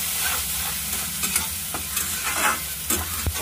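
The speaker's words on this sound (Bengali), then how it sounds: "আমি মশলাটা ভালো করে কষিয়ে নেব" Masala with kasuri methi and chopped coriander being stir-fried in a pan: a steady sizzle broken by repeated scraping stirs of the spatula, close and moderately loud, with no talking.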